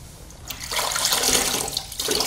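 Water splashing and running over a Toyota Sequoia headlight lens kept wet during wet sanding, a steady close hiss and trickle that swells in the middle and continues without pause.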